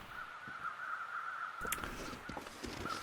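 Crows caw in The Long Dark survival game, a few short harsh calls heard at a distance over a steady wintry ambient drone, with no talk.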